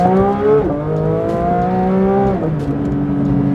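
A Porsche 992 GT3 engine revs high and holds a steady, strained tone, then drops in pitch and settles lower, loud and close with no talking.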